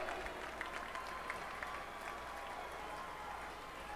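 Steady applause and cheering from a crowd in an indoor arena at a national high school track meet, backing a runner in a girls' 2-mile heat, sustained and moderately distant with scattered sharp claps throughout.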